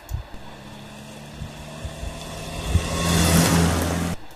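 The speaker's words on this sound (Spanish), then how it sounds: "vamos a poner entonces un auto que pasa." A car passing on asphalt as a sound effect: a low engine hum swells, peaks with tyre noise, then cuts off abruptly.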